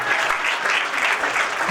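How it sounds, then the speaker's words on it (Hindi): A church congregation at a Sunday service claps hands in thanks to the Lord, giving dense, steady applause from many people that fills the room evenly. "ताली बजा के प्रभु को धन्यवाद।"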